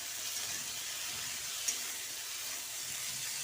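Spices with panch phoron and vegetables fry in a pan for a singara filling, giving a steady close sizzle and hiss with one brief soft knock midway.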